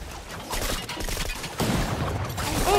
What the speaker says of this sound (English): Gunshots over here.